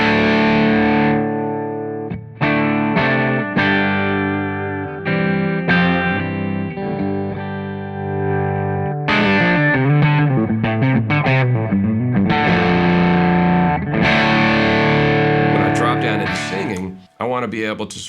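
PRS DGT Semi-Hollow limited edition electric guitar played through an amp with a lightly driven tone, strumming sustained chords and riffs. The sound is close and steady, with ringing, slightly gritty chords and a brief drop near the end.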